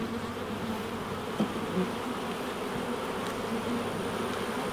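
Honey bees hum in a dense, steady drone around hives while nucs are installed, a close continuous buzz with no one speaking.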